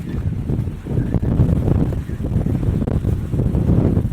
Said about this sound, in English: the wind hollers across the plains so strongly that it bleeds my microphone dry